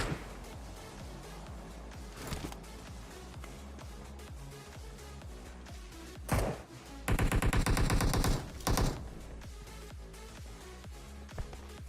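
Gunfire from a boat in the video game PUBG comes as a dense automatic burst in the middle of the clip. A few scattered shots surround it, and the firing sits over steady game background noise.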